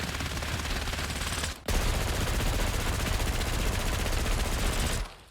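Rapid automatic gunfire from a Ladra submachine gun with a tracer-pack skin in a video game: two sustained full-auto bursts, loud and close, separated by a brief pause, with no talking.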